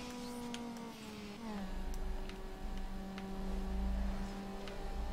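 A car engine whining and revving in Need For Speed: Underground as nitrous boost kicks in, a steady mechanical hum that surges and rises in pitch, with sharp ticks over a low rumble.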